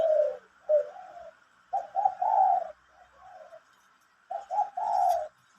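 Small caged doves cooing in repeated phrases of two or three soft notes, close and clear with short pauses between calls and no talking.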